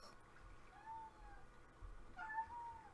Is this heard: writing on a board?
no